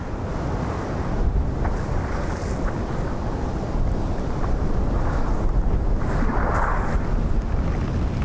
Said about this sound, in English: You could see the strength of the wind as the spray blew across the top of the